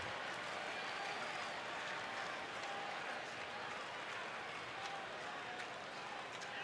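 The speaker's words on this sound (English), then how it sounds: "They're cheering on just about every pitch Max makes." A baseball stadium crowd cheers a pitch from afar, a faint, steady wash of applause and murmuring that holds evenly throughout.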